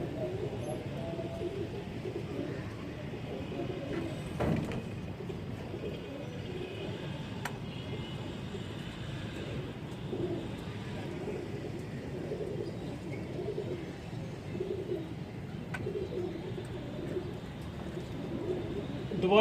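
Soft, low pigeon cooing repeats steadily in the background, with faint rustling and indoor room noise throughout.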